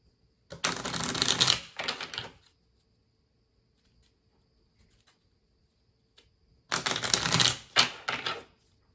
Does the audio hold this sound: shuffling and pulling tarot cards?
yes